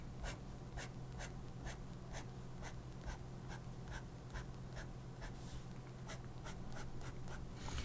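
Pen hatching lines in ink on paper, a steady run of quick, close scratchy strokes repeating at an even rhythm over a constant low hum, with no speech.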